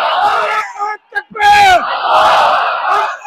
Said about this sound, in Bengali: তারা নারায়ে তাকবীরের ধ্বনিতে পুরো মাঠ মুখরিত করে ফেলেছে